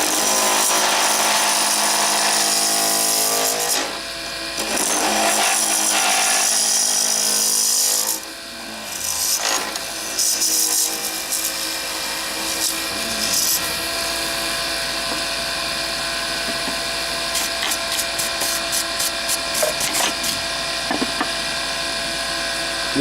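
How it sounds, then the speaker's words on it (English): A pen blank spins on a wood lathe while a skew chisel cuts off its square corners, producing a loud, sustained whirring and chattering rasp. The noise eases in places and carries a faint rhythmic ticking near the end. "it makes turning these corners off much easier than using a smaller tool"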